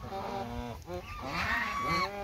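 Geese on a farm honk continuously and close by, harsh nasal calls overlapping in a dense, unbroken chorus.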